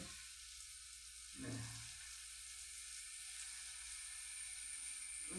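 Ripe banana slices fry in ghee over a small flame, making a faint, even sizzle that holds steady throughout, with a slight swell partway through.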